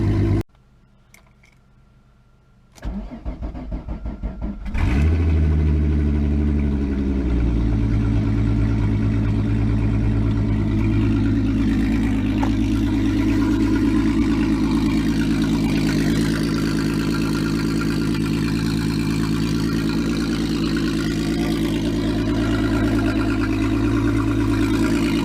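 A car engine cranks after a few seconds of quiet, catches with a loud burst, then settles into a steady, close idle that drones on while it warms up.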